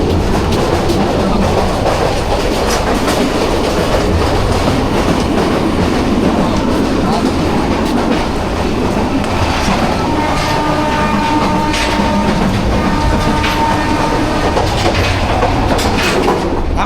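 Dolonchapa Express passenger train in Bangladesh rolling along, its steady rhythmic clickety-clack of wheels on rail joints heard from inside the carriage, loud and continuous over a dense rumble with faint metallic squeals.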